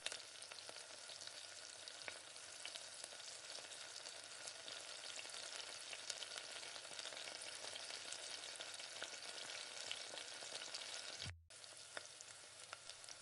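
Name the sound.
sautéing tomatoes with mint and coriander in a pan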